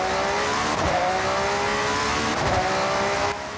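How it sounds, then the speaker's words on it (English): A car engine in the Forza Horizon 6 racing game drones steadily under load throughout, with a sustained tonal whine that may be turbo spool. A couple of brief surges in intensity come before it cuts off near the end, and no voices are heard. "If we take a really close listen, we can actually hear the turbo spool up"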